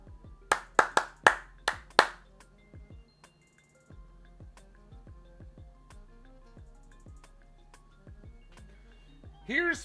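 Several sharp hand claps ring out in a quick burst near the start during a live baseball broadcast, then give way to quieter ticks and a background voice, with a brief chirpy sound at the very end.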